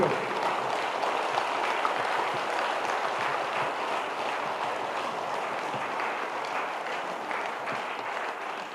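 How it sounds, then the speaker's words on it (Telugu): A meditation workshop audience claps loudly together as the session ends, a dense, steady wash of many hands that holds evenly for the whole stretch with no voices over it. "మీ అరిచేతులు మీరే తీసుకొని గట్టిగా చప్పట్లు కొట్టండి"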